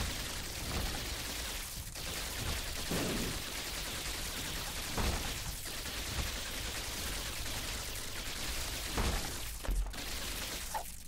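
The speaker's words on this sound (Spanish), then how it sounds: "Qué guapo como disparo, ¿no?" Shots fired in the video game The Binding of Isaac: Repentance, with electric lightning-style attacks, a stream of sharp crackling bursts repeating over a dense, noisy game soundscape.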